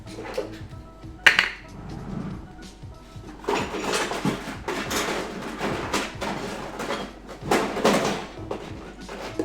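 Plastic food containers clatter and knock as someone rummages through a kitchen drawer, with repeated rattling bursts and a few sharper clicks, up close and busy throughout.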